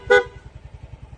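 On a Yamaha Gravis scooter, a PIA auto style dual horn sounds one short, loud blast close by, then the small engine keeps idling with a rhythmic low throb.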